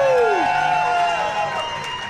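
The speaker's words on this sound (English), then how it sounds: "let me get a round of applause" Live show audience cheering and whooping with scattered applause, a loud crowd burst with a rising then falling shout at the start, tapering slightly over two seconds.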